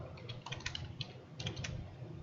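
Light clicking keystrokes on a computer keyboard, a quick irregular run of taps close by and soft, with no talking.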